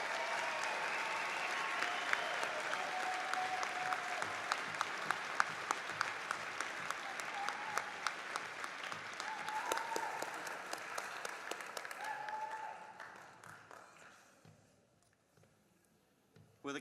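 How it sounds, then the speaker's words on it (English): Commencement ceremony crowd applauding the master's graduates, a long, steady round of many hands clapping in a large hall that gradually thins and fades out toward the end. "let's give the master's graduates an applause"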